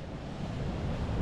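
A faint, steady breeze rushes past by the water, a low blowing hiss mixed with soft surf-like wash and no voices.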